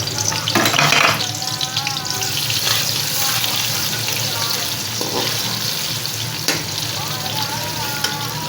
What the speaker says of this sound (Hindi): अब इसमें प्याज शामिल करते हैं। प्याज को ब्राउन कर लेते हैं।